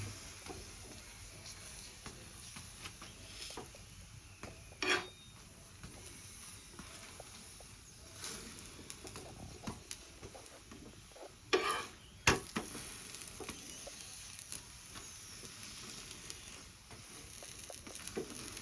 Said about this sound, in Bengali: বাকি পরোটাগুলো আমি এইভাবে ভেজে নেব।